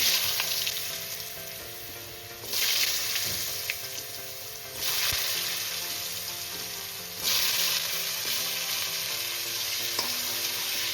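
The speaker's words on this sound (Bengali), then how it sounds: "আলু আর ডাঁটা একসাথে করে একটু ভেজে নেব।" Cut potato and vegetable stalks frying in a little oil with turmeric, a continuous sizzle that surges louder in waves as pieces are stirred and turned, with faint clinks and no voices.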